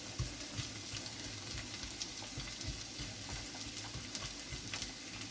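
Vegetables softening in a pan for a simple home birthday meal, a steady close sizzle with faint scraping stirs running through the whole stretch.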